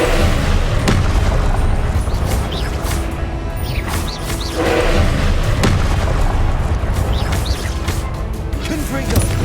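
Explosive Confringo spell blasts in Hogwarts Legacy combat, repeated loud booms and crashes landing amid constant battle noise, with a voice shouting spell names over them.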